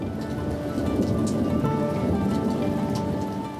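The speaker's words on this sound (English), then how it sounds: "it only takes a rumble of thunder and a summer rain shower" A summer rain shower patters steadily and densely on surfaces close by, with a low rolling rumble of thunder underneath, no voices.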